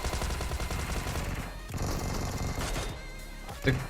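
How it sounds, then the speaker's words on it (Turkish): Rapid gunfire in the mobile battle royale game PUBG Mobile during a competitive match, dense automatic bursts from a Thompson and Mini 14 rattling continuously, with a sharper close shot near the end. "Buraya doğru mermiler gönderecek."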